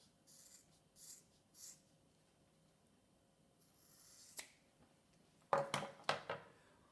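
Scissors snip through a strap for a homemade TRX suspension trainer, a few soft scrapes early on followed by three or four sharp, close cutting snaps near the end in an otherwise quiet room.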